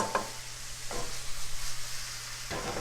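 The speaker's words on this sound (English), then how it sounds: "And we'll get that frying right away here." Vegetables sauteing in a frying pan over medium to high heat for a vegan quiche Lorraine, giving a steady close sizzle with a couple of brief stirring scrapes and a low hum underneath.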